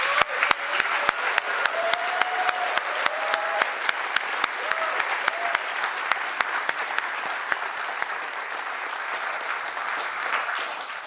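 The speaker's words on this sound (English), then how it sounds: "So I think we should give a huge round of applause for Anastasia." Large audience applauding at the closing ceremony of the International Physicists' Tournament grand finale, sustained dense clapping throughout with a few sharp individual claps standing out near the front and faint voices underneath.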